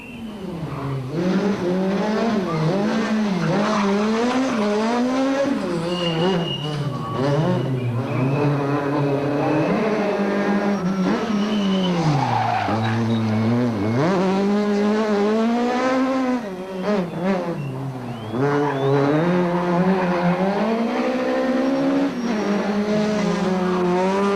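In-car sound of a 2005 Volkswagen rally car driven hard on a rally stage, its engine wailing loudly and rising and falling through gear changes, with brief tyre squeals, continuous and close.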